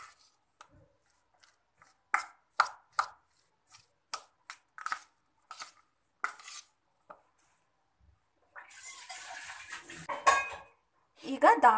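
Potato palya stirred in a pan with salt, a spoon or spatula clacking against metal in uneven sharp taps, fairly close, followed by a burst of scraping and clatter near the end.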